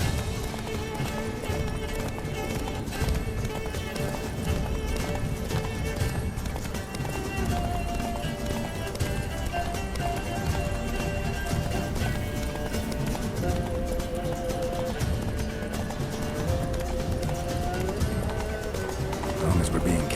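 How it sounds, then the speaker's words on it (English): Galloping hooves of a horse in The Witcher 3 video game drum steadily throughout, mixed with game music and effects, while people talk over it. "Run, Roach"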